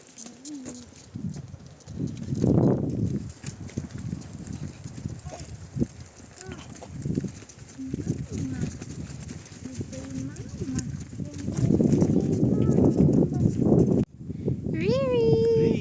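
Horse hooves clip-clop on a farm amid chatter and ambient noise, with people talking throughout and a higher animal call toward the end.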